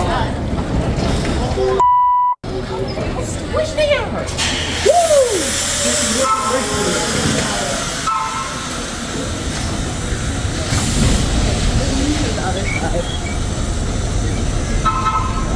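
A Metro North train gives a short horn blast, followed by hissing, rumbling rail noise and squealing wheels and brakes, with people talking over it.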